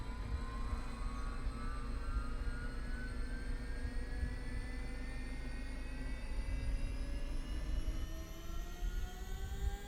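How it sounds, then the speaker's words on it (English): A HondaJet engine, the second of two, starts up with a rising turbine whine that climbs steadily in pitch over a constant low rumble, heard from inside the aircraft without talk. "we can start engine number 2"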